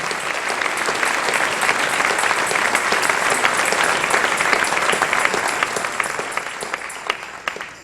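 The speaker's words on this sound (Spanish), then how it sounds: "Dale un aplauso al Rey en esta hermosa y preciosa mañana." A church congregation applauds steadily, dense clapping filling the room at full volume for several seconds before tapering slightly near the end.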